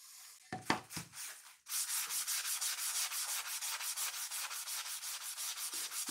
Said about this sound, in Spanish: Ahora le tendremos que pasar la lija.